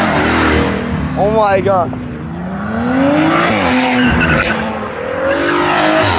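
Supercharged car at a car meet, loud nearby engine roaring and revving with tire squeal and a rising whine over crowd noise, while a person exclaims over it.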